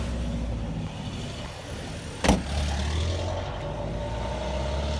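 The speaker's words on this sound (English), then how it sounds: "UPS or FedEx goes by." A UPS or FedEx delivery truck passing on a road, a steady low engine rumble with a sharp hiss-like burst partway through, moderately near.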